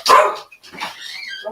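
An eager dog that wants to go out lets out one loud, close bark, then follows it with a couple of softer whining yips.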